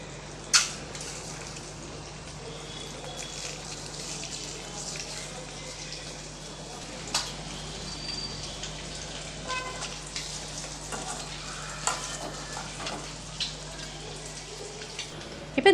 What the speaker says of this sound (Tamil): இதை கொஞ்சமாக நம்ம 2 பக்கமும் திருப்பி போட்டு கொஞ்சம் நல்லா வறுத்து எடுத்துக்கலாம்.